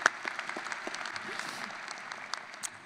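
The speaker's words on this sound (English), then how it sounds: "let's clap" A crowd at a university commencement ceremony claps steadily for a few seconds, dense applause with scattered sharper individual claps, fairly distant and sustained.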